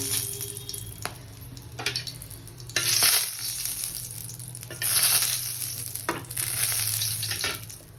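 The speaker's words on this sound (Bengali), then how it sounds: "এখন এই তেলে দিব গোটা গরম মশলা" Whole garam masala sizzles loudly in hot oil, crackling in bursts with occasional stirring scrapes and clinks against the pan, with no talking.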